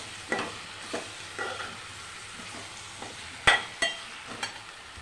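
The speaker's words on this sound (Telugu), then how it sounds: "అలా ఒకసారి మిక్స్ చేసుకోవాలి" Eggplant curry fries in a pan with a soft, steady sizzle while a spoon stirs it, scraping and clinking against the pan in about eight irregular strokes, close up.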